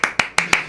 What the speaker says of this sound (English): round of applause for Jake